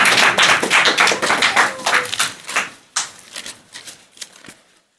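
A church congregation claps hands during a Sunday meeting, a dense burst of overlapping claps that thins into a few scattered, fading claps with no talk.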